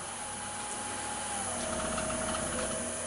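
A wood lathe spins steadily as a wooden bowl is turned at a higher speed for a cleaner cut, giving a continuous, even whir with a rising hiss from the tool on the wood.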